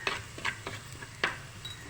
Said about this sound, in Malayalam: എന്നിട്ട് നമുക്കിത് ഒന്ന് വഴറ്റിയെടുക്കാം